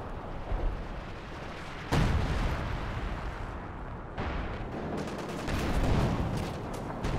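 Artillery gun shelling a base in a World War II tank strategy game, dense rumbling blasts and crackling impacts overlapping in waves, fairly steady and moderately loud throughout.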